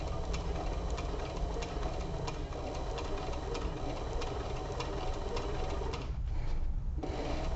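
A sewing machine stitches a zippered pistol case with a fast, even mechanical whir and clatter close by, running almost without a break before a brief lull and then starting again.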